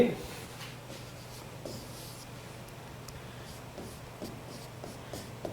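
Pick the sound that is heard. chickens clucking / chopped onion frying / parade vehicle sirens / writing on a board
writing on a board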